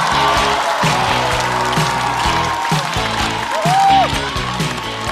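Studio audience applause welcoming a newcomer stand-up comedian onto the stage at a Chinese comedy show, a steady, dense wash of clapping lasting throughout with music playing underneath.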